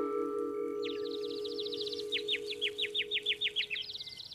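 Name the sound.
newly hatched baby birds chirping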